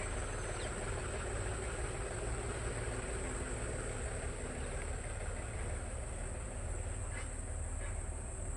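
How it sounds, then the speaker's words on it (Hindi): A tractor engine runs steadily on a road near the Yamuna river area around Kairana and Chhaproli, a continuous low rumble with broad noise holding at even loudness throughout, no talking. "ट्रैक्टर जा रहा है।"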